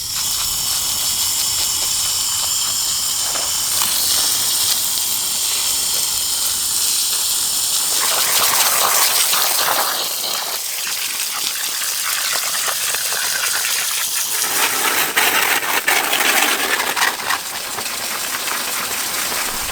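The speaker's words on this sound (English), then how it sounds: "I got the water hose. I'm going to wash this off so we can better see the condition of the metal." A garden water hose sprays hard onto a metal raised bed, washing soil away in a steady, close hiss and gush that surges and shifts in intensity as the stream moves, with no talking.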